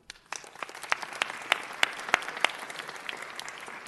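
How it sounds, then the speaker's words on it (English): Applause for a champion high school team at a city council meeting, starting thin and scattered and swelling into steady clapping from a moderately distant crowd, with sharp individual claps standing out. "let's give them a real round of applause"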